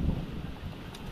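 Strong wind buffets the microphone in a steady low roar with no speech, filling the whole short stretch outdoors.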